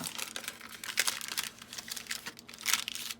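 Tea-dyed parchment paper being folded by hand into a bag, with close, crisp crinkling and soft creasing rustles in irregular bursts, loudest near the start and again toward the end.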